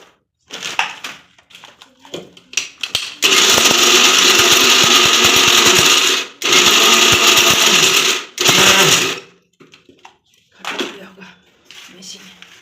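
A blender grinds dates into paste for homemade laddu, roaring loudly in two long bursts separated by a short pause, with brief pulses and someone speaking before and after.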